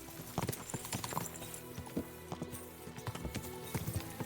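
A horse's hooves clip-clop in a steady walking rhythm in the medieval video game Kingdom Come: Deliverance II, the hoofbeats close and distinct against quiet ambience.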